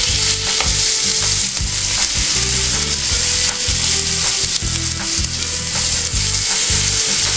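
Fish pieces frying in a pan on a home stove, a loud, continuous sizzle with intermittent clinks and scrapes of stirring, no voices.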